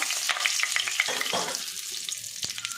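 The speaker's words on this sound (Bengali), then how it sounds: "তেলটা দেখো গরম হয়ে গেছে আমি দিয়ে দিলাম মশলাটা" Whole cloves, bay leaves and cardamom drop into hot oil for mutton kosha and crackle sharply, a dense close frying sizzle with popping bursts that eases slightly toward the end.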